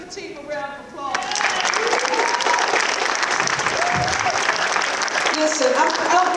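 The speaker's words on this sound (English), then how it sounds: "So can y'all give the team a round of applause?" Audience applause at a mayor's public event about a Chinatown arena, swelling into sustained loud clapping after a brief opening moment, with voices and cheers mixed into the crowd noise.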